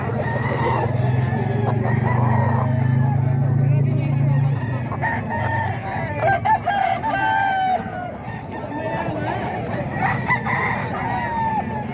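Roosters crowing at a busy chicken market in Bocaue, several loud overlapping crows and clucks over a constant crowd murmur and background noise.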